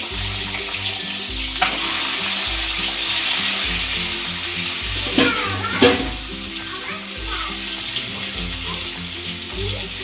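Eggs sizzle hard in hot oil with turmeric for an Assamese egg curry, a dense steady frying hiss filling the clip, broken by a few sharp utensil clinks and spatters.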